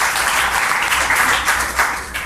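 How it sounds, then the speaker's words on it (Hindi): An audience claps steadily for a child quiz contestant at a school quiz event, a dense continuous round of applause that swells slightly in the middle and fades at the end. "श्वेता के लिए एक जोरदार ताली होनी चाहिए"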